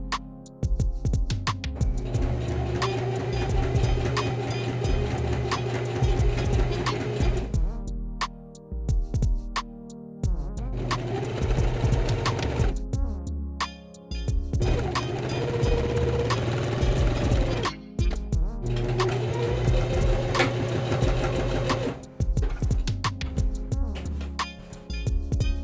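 A sewing machine runs a straight stitch on a fabric cover, whirring in several sustained bursts of a few seconds each with short pauses between them, under a steady tonal background.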